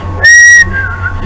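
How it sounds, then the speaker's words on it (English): A short, bright whistled phrase, a single sustained note that slides slightly, over a steady low background hum. "You even start to whistle a little tune to yourself."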